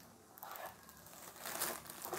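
Plastic wrapping crinkles and rustles as it is pulled off an Angelet XTS 690 electronic piano keyboard, soft, close crackling in irregular bursts, growing a little louder toward the end, with no talk.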